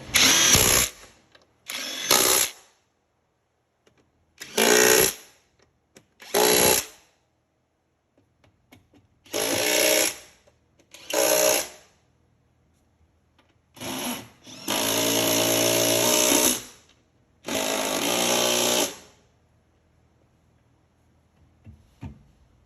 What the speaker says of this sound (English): now that all the bolts are in, we're just going to tighten everything up